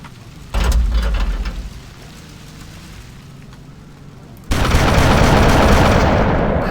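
Plasma weapons fire in the vehicle combat game Hard Truck Apocalypse, first a burst of rapid crackling shots, then a lull of engine rumble, then a loud continuous hissing barrage that runs to the end.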